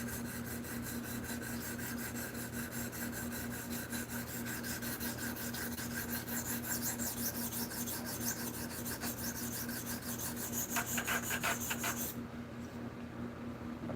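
Steady rasping strokes of a PM2 knife blade drawn across a stone on a KME guided sharpener, close and continuous with a constant hum beneath, ending abruptly near the end.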